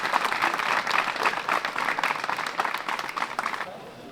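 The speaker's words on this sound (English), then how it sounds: "It's such an enthusiastic crowd, clapping for every good shot" A golf crowd at a tournament applauds a good shot with a steady burst of clapping that runs about three and a half seconds before cutting off abruptly.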